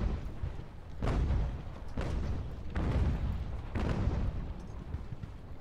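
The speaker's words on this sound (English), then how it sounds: "Artillery's opening up." Artillery fires in Ultimate General: American Revolution, a series of four deep booms about a second apart over a continuous roaring battle rumble, each blast fairly loud and close.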